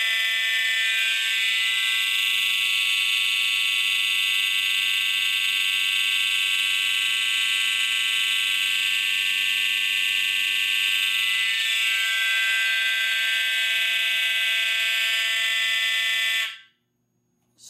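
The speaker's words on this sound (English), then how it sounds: "is we are going to do a fire drill." An addressable fire alarm system sounds during a building fire drill, a loud, steady electronic tone with bright harmonics holding continuously for about sixteen seconds before cutting off abruptly into near silence.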